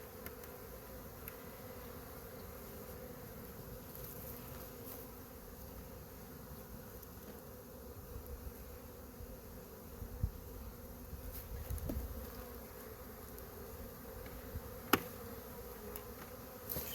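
Honey bees buzzing around an open hive during a nuc transfer into ten-frame deep boxes, a faint continuous insect drone with occasional louder passes of individual bees close by.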